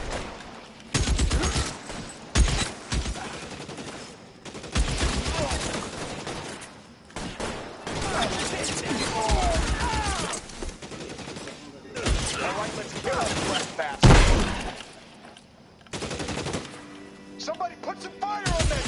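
Gunfire from a PS4 video game rattles in repeated loud bursts and volleys across the stretch, with voices and game sounds mixed underneath.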